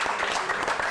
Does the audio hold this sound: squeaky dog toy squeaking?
no